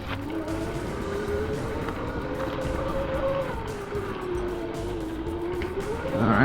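A Ventus One electric bike being ridden, giving a steady motor whine that rises and falls in pitch over constant rushing wind and road noise, building slightly at the end, with no talking.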